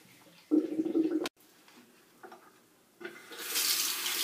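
Water from a tap rinsing a liquid face mask off at a sink, with short splashing bursts and a steadier hiss of running water building at the end, close and fairly quiet.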